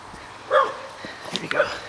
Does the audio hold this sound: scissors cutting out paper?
no